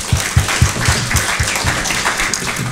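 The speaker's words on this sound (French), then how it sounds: "je vous remercie d'applaudir nos panélistes" A conference audience applauds the panelists at a talk on elected officials and digital innovation, a dense, steady patter of many hands clapping throughout, with faint voices underneath.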